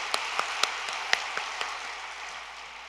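Audience applause at a church conference, scattered rhythmic clapping of the crowd with distinct individual claps over a hushed hall, easing off after a couple of seconds.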